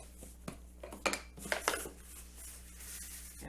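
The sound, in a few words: pans, pie plates and casserole dish handled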